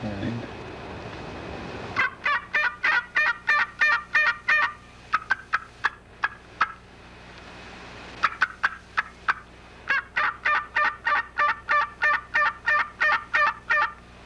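A call imitating a turkey's gobble, sounded in rapid rhythmic bursts of sharp notes with brief pauses between series, loud and close.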